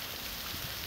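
Heavy rain pours down around a village fish pond, a dense steady hiss with no pauses and no voices.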